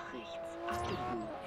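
A car drifts in the racing game Forza Horizon with a brief rising tire squeal over the engine note, while someone talks over it.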